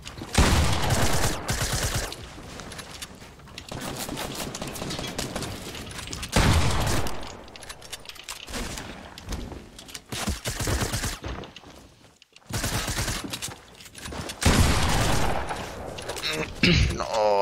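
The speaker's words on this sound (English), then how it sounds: "I just started firing at the other guy" Bursts of rapid gunfire ring out in the video game Fortnite, loud volleys and single shots packed close together across the stretch, with a player talking over parts of it.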